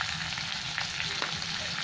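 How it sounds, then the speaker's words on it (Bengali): Spice masala for a small-fish dish sizzles in a pan, a brief close hiss with a couple of light stirring scrapes and no talking. "এটা একটু ভালো করে কষিয়ে নেবো"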